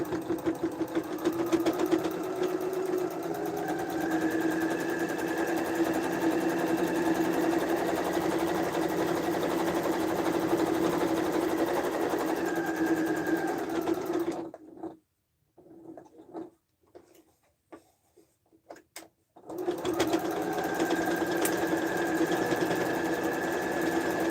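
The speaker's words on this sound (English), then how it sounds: "now we're closing that pocket as we top stitch it onto the lining" A sewing machine top-stitches a pocket onto tote bag lining in a long, even, close whirring run, stops for a few seconds with only faint handling clicks, then starts stitching again.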